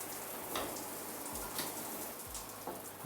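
Water streams from a high-end shower head in a new luxury apartment, a steady hissing spray with a few dull thumps as the handheld head is moved around.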